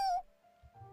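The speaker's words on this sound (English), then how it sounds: "Maybe she can only meow." A video game cat gives a single short meow at the start, close and clear, then fades into a low hum and quiet.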